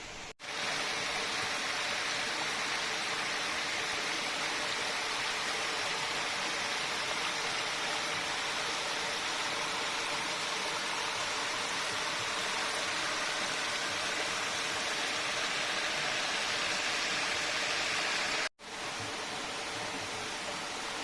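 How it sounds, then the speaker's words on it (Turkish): Cold spring water pours from the canyon wall into Deliçay creek in the Amanos mountains, a steady, close, broadband rush of flowing water running unbroken throughout with no talking. "Deliçay Deresi'ne dökülen su kaynakları gördüğünüz gibi bu alandan çıkıyor buradan."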